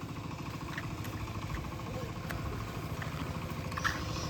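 A tractor works a muddy, rain-soaked village field, its engine chugging in a steady, low, fairly distant rhythm that stays faint throughout.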